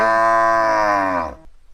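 A cow in a village moos once, a long, loud, close, droning call that fades at the end and leaves brief quiet.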